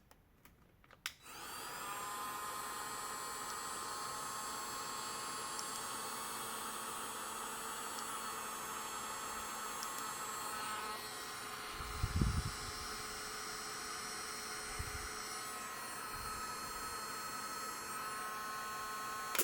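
A steady electric blower hum from cordless heat guns, a Bosch GHG 18V-50 and a Parkside Performance PPHLGA 20-LI A1, runs throughout, with a sharp click at the start and a couple of brief low thumps later on.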